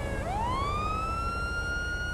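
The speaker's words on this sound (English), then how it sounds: "I'm going to turn my siren off before I go crazy." A police car siren in the LSPDFR video game rises sharply and then holds a long, steady tone, loud and continuous with no one talking over it.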